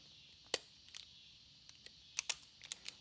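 Wire cutters snipping off a faulty electrical connector on a John Deere 332 lawn tractor during a voltage regulator change, heard as a few sharp, close clicks and snaps spread over a few seconds.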